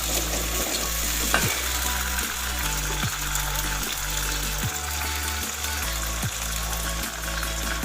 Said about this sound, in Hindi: अब इसमें प्याज डालूंगी।